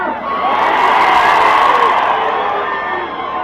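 A large political rally crowd at Shivtirth roars with cheering, whoops and shouting, a loud, dense and continuous wall of voices that swells slightly in the middle.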